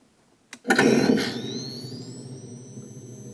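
A sudden electronic power-up from a Ghostbusters proton pack replica: a click, then a rising whine and hum that settles into a steady high-pitched tone with a low buzzing drone beneath.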